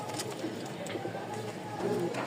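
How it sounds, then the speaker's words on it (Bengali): A large batch of flying-breed pigeons from Rajshahi coos faintly in the background while someone talks over them throughout. "তিরিশ পিচ কবুতর চলে আসছে অলরেডি"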